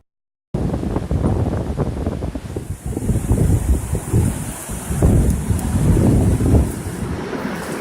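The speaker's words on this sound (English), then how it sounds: "It is a very windy day." Strong wind gusts on the Lake Michigan shore as big waves roll in, a loud, rough buffeting roar against the microphone that surges and eases after a brief silent start, with no talking.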